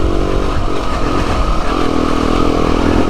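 A motorcycle engine drones steadily and loudly while riding a narrow country lane on wet, slimy roads, with no pauses in the continuous rumble.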